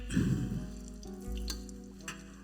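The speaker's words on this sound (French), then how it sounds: "On va peut-être monter en fait la friture." Ravioli frying in hot oil during a cooking demonstration, a soft close sizzle and crackle that swells early, eases, then carries on at a low level, with a brief clink near the end.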